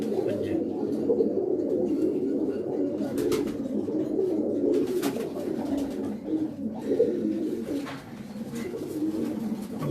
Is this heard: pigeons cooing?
yes